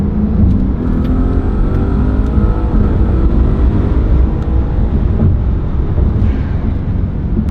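An Audi S8 with a heat-soaked engine and stock intercoolers drives along, its engine droning loud and close with a steady whir and mild revving, no voices present.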